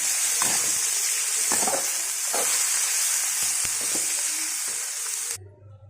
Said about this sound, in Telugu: ఇలాగా ఫ్రై చేసుకోవాలి